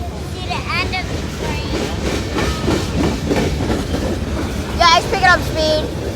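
A long CSX freight train rolls past at night, a continuous loud rumble with rhythmic clickety-clack from the railcars and squealing metallic wheel screeches, close by throughout.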